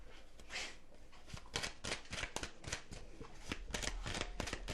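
Oracle cards being shuffled by hand: a steady run of soft, papery flicks and riffles with quick crisp taps, close and fairly quiet, continuing throughout without talk.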